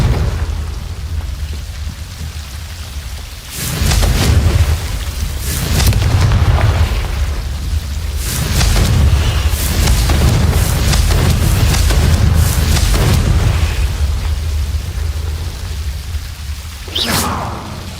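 Confringo blasting spells from Hogwarts Legacy going off in heavy, booming explosions, several deep blasts with rushing debris noise rolling one after another, loud and close, ending on a sharp crack.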